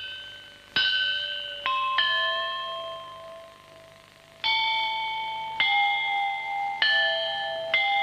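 Bronze temple bells struck one after another at irregular intervals, each clear metallic ring hanging and slowly decaying, fairly quiet in a still space.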